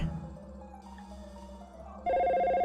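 In the video game Dino Crisis, a telephone rings unanswered: a steady electronic ring tone over quiet game ambience that jumps suddenly louder partway through and then continues.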